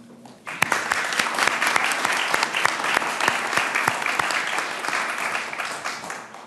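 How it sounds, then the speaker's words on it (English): Audience applause at a roundtable panel event breaks out suddenly after a brief pause and holds as a full, even clapping from many hands for about six seconds, easing slightly toward the end. "give you another round of applause for that"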